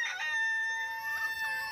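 A rooster crows once, nearby and fairly loud, in a short strident call with a brief cluck-like start, no one speaking.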